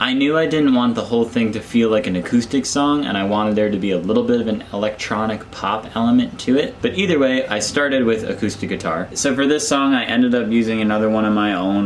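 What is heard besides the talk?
No everyday noise stands out behind the speech.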